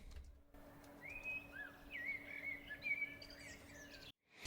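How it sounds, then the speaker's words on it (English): Bird calls layered into a barn ambience for a sound design: faint chirps and whistled tweets over a low, steady room hum, ending in a brief cut to silence. "why not have some bird calls and stuff?"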